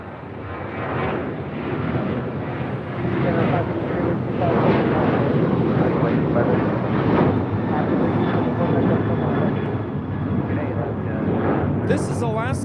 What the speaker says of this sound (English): This is Alaska Airlines 1374 taking off to Loretto on a 737-900ER